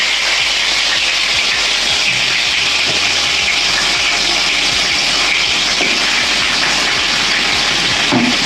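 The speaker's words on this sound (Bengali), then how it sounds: "এবার ম্যারিনেট করা চিকেন আর আলু এর মধ্যে দিয়ে দিচ্ছি" Marinated chicken and potatoes sizzle loudly in a hot pan, a steady, dense hiss that continues unbroken throughout, close up with no talking.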